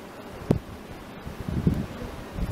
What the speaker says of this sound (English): Extremely windy out here.